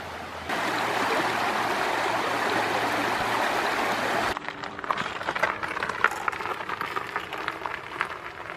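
A low, shallow river runs over an exposed gravel bar along a creek near Sitka, Alaska, giving a steady broadband rush that drops in level partway through and turns into a closer, more textured babble of water over stones.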